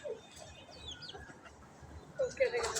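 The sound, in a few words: chicken clucking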